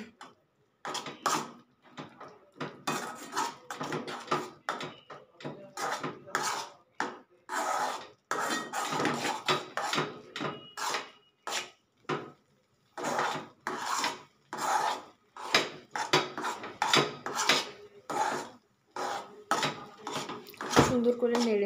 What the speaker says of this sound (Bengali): তো এই পর্যায়ে এটাকে নেড়ে চেড়ে খুব ভালো করে একটা ডো তৈরি করে নিব আমরা।